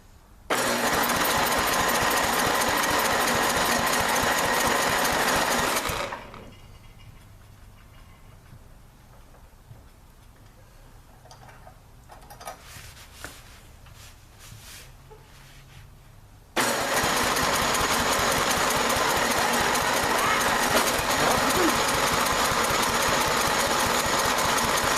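A Yardman snowblower's small engine with a bad carburetor roars loudly for several seconds, cuts off into a quiet stretch with faint rattles, then fires back up and runs steadily.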